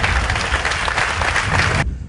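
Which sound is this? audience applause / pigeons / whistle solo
audience applause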